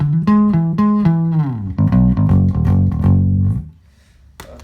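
Deep bass guitar notes played through an amplifier, a run of plucked pitches descending then a thick rumbling riff before it fades out.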